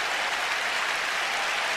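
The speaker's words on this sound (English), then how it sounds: "Very enthusiastic crowd here." An enthusiastic crowd at the Eurovision Song Contest applauds in a dense, steady wash of clapping, loud and continuous throughout, with no voices over it.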